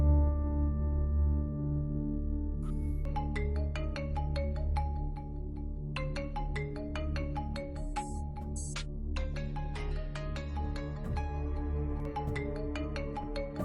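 A phone rings in a Pakistani drama scene, a repeating electronic ringtone pattern sounding steadily over a low background music bed for several seconds with no talking.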